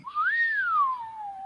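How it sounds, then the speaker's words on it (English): A single person whistling one clear, close tone that rises, holds and then slowly glides downward over about a second, with nothing else heard. "Why can I not whistle when I blow out?"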